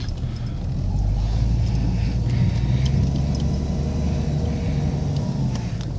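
A 1997 Jeep Cherokee with the 4.0 engine idles steadily close by in a low, even rumble, with faint clicks and ticks above it and no talk.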